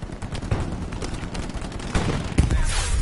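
Sustained gunfire in Hell Let Loose, a World War II shooter: dense, overlapping bursts of rifle and machine gun shots, steady and loud, with a few sharper nearby cracks toward the end.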